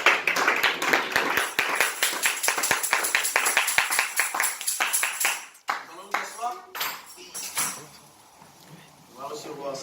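A church congregation claps in rapid, rhythmic applause for several seconds, then the clapping fades and voices speak and call out.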